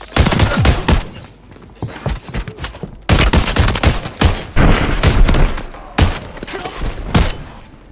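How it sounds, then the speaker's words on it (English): Rapid bursts of automatic weapons fire in Warzone III Resurgence ring out loud and close, with sharp shots, short pauses and thuds between volleys. "Weapons fire!"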